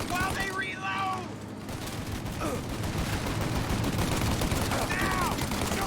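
Bursts of gunfire crackle through a shootout in Mafia Definitive Edition, with rapid shots mixed under shouted voices and background game sound.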